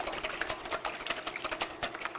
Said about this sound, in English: I'm just going to whisk those to break them up.